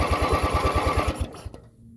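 A small engine, its choke stuck, fires during a cold start with rapid rhythmic pulses close up for about a second, then sputters and dies away.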